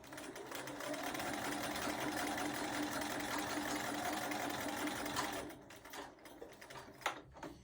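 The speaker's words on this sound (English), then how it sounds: "sew to that line" Sewing machine stitching a quilted mug rug along a marked quarter-inch line, a steady close whirring drone for about five seconds, then stopping into a few soft clicks and handling sounds.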